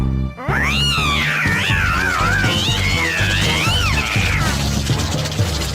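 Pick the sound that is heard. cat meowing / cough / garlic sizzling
cat meowing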